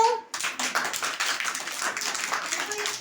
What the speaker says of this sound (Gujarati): ઉપર તાળી વગાડો